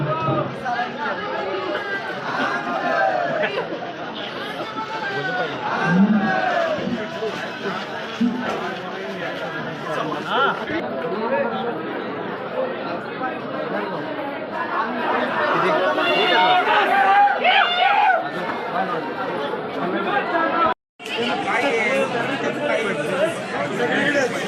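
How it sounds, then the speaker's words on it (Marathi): A dense crowd chatters and murmurs at the Jotiba temple yatra pilgrimage festival, a steady hubbub of many voices close around, with a brief cutout near the end. "भरपूर गर्दी आता."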